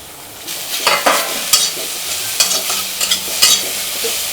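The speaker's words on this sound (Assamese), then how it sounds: "একদম কম সময়ৰে ফ্ৰাই কৰিম" Food frying in a pan with fish and potato nearby, a constant hiss of sizzling oil broken by irregular scrapes and clacks of stirring, close and fairly loud, with no talking.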